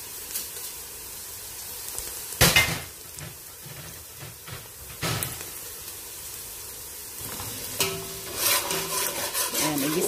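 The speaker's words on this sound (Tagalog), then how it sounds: "igisa po natin lahat ng sangkap dyan" Ginger, onion and garlic sautéing for arroz caldo, with soft sizzling and stirring scrapes in a pan and a few louder knocks of the utensil, no talk.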